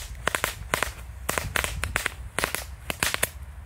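A small mini chain of firecrackers from a Lidl set goes off near the listener in quick irregular clusters of sharp cracks and pops, with brief gaps between bursts.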